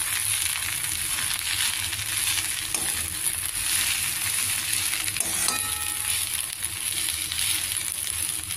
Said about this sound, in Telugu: ఇలాగా కొద్దిగా లో ఫ్లేమ్లో పెట్టి వేయించుకుంటే బాగా దగ్గరగా అయిపోతుంది గోంగూర అంతానే